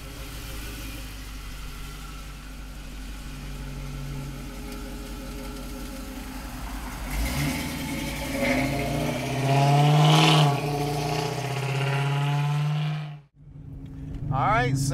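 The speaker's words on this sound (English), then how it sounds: "LS power under the hood, sounding great. I mean, nothing sounds like an LS." A 1971 Chevrolet Camaro with an LS V8 idles with a steady, throaty rumble, then swells into a brief rev before cutting off sharply, heard close up with someone talking over it.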